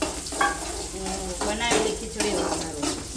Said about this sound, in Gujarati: ઓકે, કાઠિયાવાડી સ્ટાઇલ ખીચડી વઘારે છે.